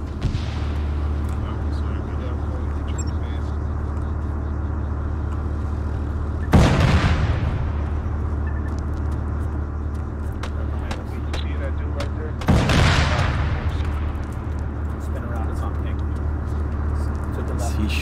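A tank's main cannon fires twice in the Arma 3 game, each a sudden loud boom with a rumbling tail, about six seconds apart over a constant engine drone.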